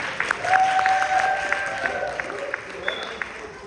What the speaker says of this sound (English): let's give one more big round of applause for our friends here